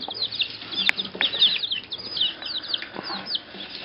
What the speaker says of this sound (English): that's the chickens eating a worm here at Highland